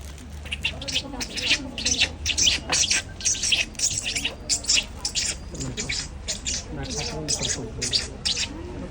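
Someone mimics a pair of lovebirds with rapid, shrill chirps and tweets in quick bursts, close to the listener, with faint breathy sounds between.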